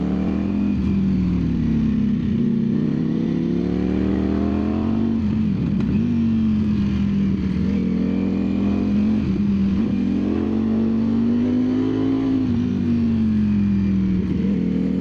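A Ducati Streetfighter V4S motorcycle on its first ride along tight twisty roads, engine droning steadily and close under loud wind rush, pitch rising and falling gently as the rider holds and eases the throttle.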